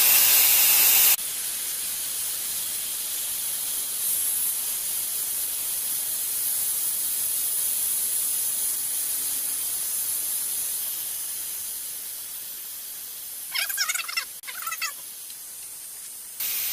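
A Benjamin Bulldog air rifle degasses with a steady, close hiss of escaping air running almost the whole time, constant and bright, with a few brief clicks near the end.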